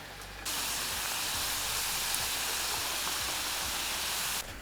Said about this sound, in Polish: Na rozgrzany tłuszcz wrzucamy po 5-6 sztuk.